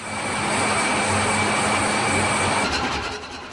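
A MAN marine diesel engine running aboard a cargo ship, heard as a loud, continuous roar with steady humming tones close by, easing off slightly just before the end.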